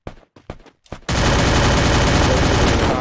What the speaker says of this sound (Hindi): तू शॉटगन यहाँ से मार रहा है